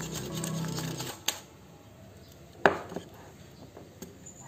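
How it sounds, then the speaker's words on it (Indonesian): A spoon stirs sugar, salt and an egg together in a bowl for peanut cookie dough, giving a soft steady scraping broken by a few sharp clinks against the bowl. "lalu ini kita aduk sampai gulanya larut"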